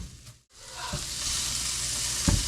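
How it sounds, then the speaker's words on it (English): Onions and garlic sauteing in rendered whitetail venison fat in a pan, a steady close sizzle that swells after a brief drop, with a couple of soft stirring knocks. "You're going to want to use that same exact fat to continue to saute your onions and your garlic"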